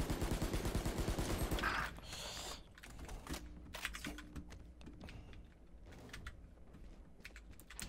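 Rapid automatic gunfire in the shooter game Valorant bursts loudly at the start, then gives way to sparse clicks and quieter game sounds with keyboard tapping.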